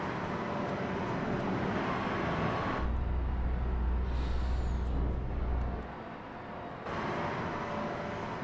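A truck engine idles in Farming Simulator 25 at a sawmill log yard, a steady low rumble with a hissing air-brake release partway through before the engine note drops and fades.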